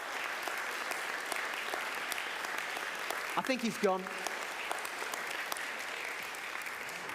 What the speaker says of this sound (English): Why don't we give a final round of applause to Andy Kind